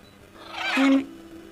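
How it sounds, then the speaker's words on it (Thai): A single harsh, rasping crow caw in the video game Phasmophobia on Roblox rises and breaks off, heard alone against a quiet background. "มันเสียงอีกาเพื่อน"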